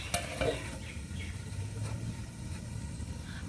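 Duck meat stirred in a pot over a wood-fired clay stove, giving a low steady sizzle and bubbling with a few brief scraping and clinking touches of a spoon near the start; no voices.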